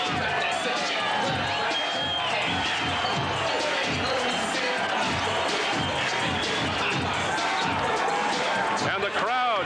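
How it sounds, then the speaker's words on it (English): Boxing arena crowd cheering for heavyweight Evander Holyfield, a dense, continuous roar of many voices filling the hall, with commentary speech over it. "And the crowd saluting Evander Holyfield."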